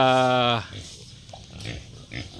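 Native pigs in a backyard pen give a loud drawn-out squeal, followed by softer grunts and rustling while a person talks nearby.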